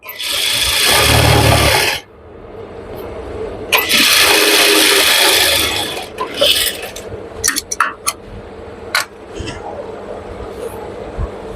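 A sewing machine stitches the hem of a pajama leg in two loud, steady motor runs of about two seconds each, followed by softer clicks and fabric handling.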